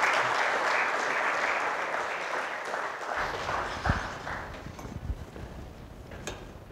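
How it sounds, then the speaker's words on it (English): Applause at a fintech conference, full crowd clapping that tapers off partway through into scattered claps, shuffling and a few sharp knocks. "Please give him a big round of applause"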